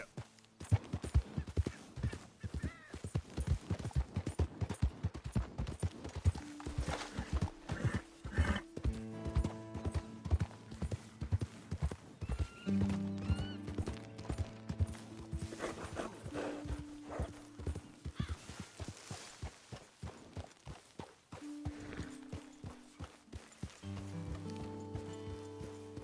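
Horse hooves clip-clopping at a gallop in Red Dead Redemption 2, a steady drumming rhythm under game music with occasional whinnies.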